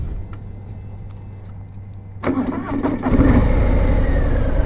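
A 2020 Harley-Davidson Sport Glide motorcycle engine cranks briefly, then catches and settles into a loud, deep, rumbling idle. It is close up, with no talking over it.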